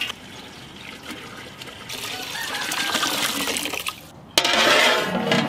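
Water is poured into a cooking pot set up for a large king crab curry, a soft trickle that swells into a fuller, louder splashing stream after a brief pause.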